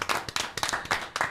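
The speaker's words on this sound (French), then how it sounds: "On peut l'applaudir bien fort." Audience applause at a French auto-moto show, greeting a singer and his band: a lively burst of close, fairly rhythmic clapping with no talk over it.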